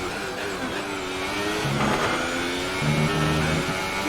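Formula 1 car engine in the F1 2018 racing game at Australia, a high, continuous drone that rises and drops through gear changes and deceleration, steady and fairly loud with no voices.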